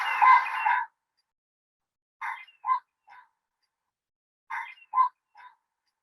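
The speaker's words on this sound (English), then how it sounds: "we have a lot of pheasants, and they sound like this." Common pheasant calling along a coastal beach road, introduced as a game bird: a loud harsh burst at the start, then two spaced groups of short raspy two- and three-note calls, clear and fairly near against silence.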